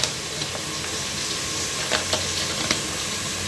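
Food frying in a pan in a home kitchen, a steady broadband sizzle with a few brief crackling pops, moderately loud and alone without talk.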